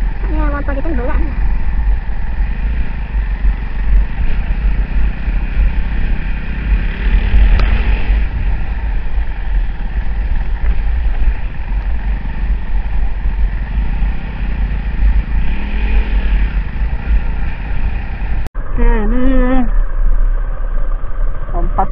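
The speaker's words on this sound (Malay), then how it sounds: "Ni motor kita ni berat ni." A heavy motorcycle rides along an off-road track in Putrajaya, its engine droning steadily and close throughout with wind buffeting, and a rider talks briefly near the end.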